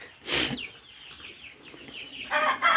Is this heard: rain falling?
no